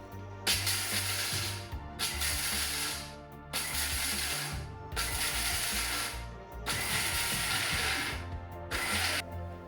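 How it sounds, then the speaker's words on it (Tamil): A mixer grinder pulses peanuts for peanut butter in loud, repeated bursts of whirring and rattling, about five pulses separated by short gaps, with no talking. "முதல் நான் பல்ஸில் தான் விட்டு அரைக்க போகிறேன்."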